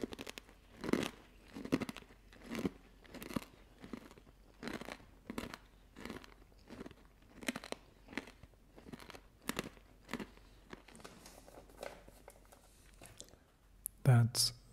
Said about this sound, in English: You get so many different types of crunchiness from each of those ingredients.